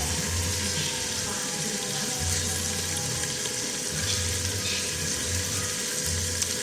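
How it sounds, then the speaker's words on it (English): Black pudding (boudin noir) simmering under a lid in a pan gives off a steady, close sizzle and bubbling hiss that runs unbroken and fairly loud throughout. "Let's cover a little to simmer a little bit"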